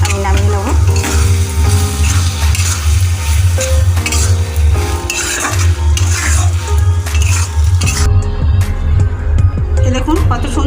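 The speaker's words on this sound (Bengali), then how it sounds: "এবার আমি উপর দিয়ে ভাজা গরম মশলাটা আমি দিয়ে দেবো, নাড়াচাড়া করে আমি নামিয়ে নেব।" Banana flower curry with egg and garam masala being stirred in a frying pan, a steady sizzle running throughout with scraping and occasional clinks of a spatula against the pot, close and fairly loud.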